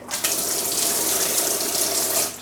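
Water gushes steadily from a tap for a couple of seconds, a loud, continuous splashing stream, while an orchid is being watered in a growroom, with no talking.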